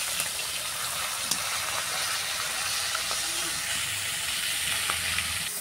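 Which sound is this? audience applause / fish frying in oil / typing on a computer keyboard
fish frying in oil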